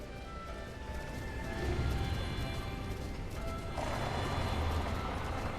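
In the video game The Legend of Zelda: Breath of the Wild, a horse trots with rapid clip-clopping hooves and an occasional whinny over steady game noise, at a moderate level with no voices.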